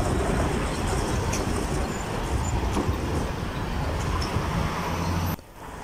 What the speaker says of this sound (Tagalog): Ayan na, parating na ang train